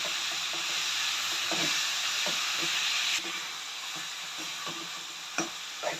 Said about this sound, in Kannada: ನೋಡಿ, ಇವಾಗ ಚೆನ್ನಾಗಿ ಫ್ರೈ ಆಗ್ತಾ ಇದೆ